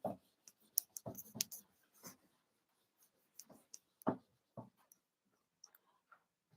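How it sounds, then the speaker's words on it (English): Faint, scattered rubbing and wiping strokes as a board is erased, with short irregular swipes and brief pauses in a quiet room. "So I'm going to erase this to make some space."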